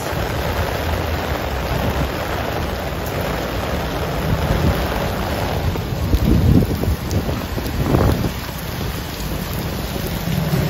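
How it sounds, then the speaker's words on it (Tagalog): Steady heavy rain pours down in Green Hills, San Juan, in a dense, continuous hiss, with a few louder rumbling gusts midway and no voices. "talaga bumubuhos yung yung ulan dito sa loob ng Green Hills"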